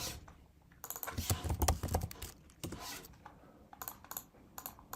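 Keys clatter on a computer keyboard in quick bursts of typing, with short pauses between runs of close, crisp clicks and no talking.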